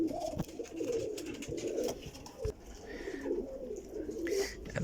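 Sialkoti pigeons in a loft in Kotli, Azad Kashmir, coo in soft, repeated throaty calls that overlap steadily up close, with a faint voice now and then.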